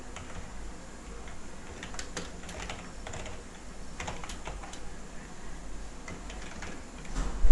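Rapid clicks of a computer keyboard while code is typed, a steady run of close, light keystrokes over a faint background hum, with no voice heard.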